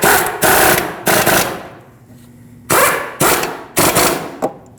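A power tool snugs up the caliper bracket bolts on a Lexus IS250 front hub, firing loud rattling bursts close by: two longer runs, a pause, then three quicker hits and a brief final tap.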